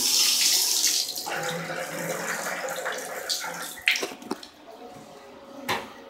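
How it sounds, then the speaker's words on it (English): Motel shower running water in an Old Town San Diego room, a steady broadband spray that fills the whole stretch with a few clunks and knocks near the end. "Shower part works okay,"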